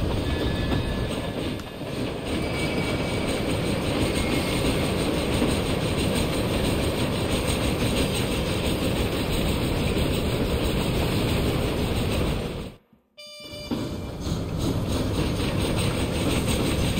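A train in the video game Red Dead Redemption runs continuously with a heavy, loud rumble and rhythmic clatter of wheels on track, broken by one brief dropout before the noise resumes.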